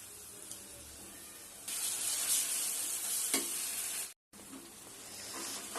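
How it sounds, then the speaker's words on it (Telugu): Tempering sizzles loudly in hot oil as chutney goes into the pan. The hissing frying sound is close and steady, swells midway and breaks off briefly once, and no one talks. "ఇప్పుడు మనం పోపేసిద్దాం."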